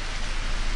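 Steady, dense rain falls by the sea on a June afternoon during the rainy season, a loud, even hiss that runs throughout with no voices.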